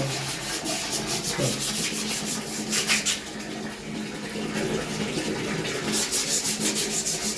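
Yellowed bathroom tiles are scrubbed hard by hand. Loud, rhythmic rubbing strokes scrape on close by, with a brief pause midway and faint watery hiss underneath.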